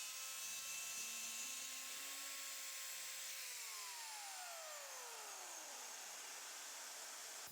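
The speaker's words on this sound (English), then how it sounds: "I started by cutting one edge using a track saw" A track saw cuts along the edge of a wooden desktop slab with a loud, sustained high-pitched whine and steady buzzing that winds down slowly in pitch at the end of the cut.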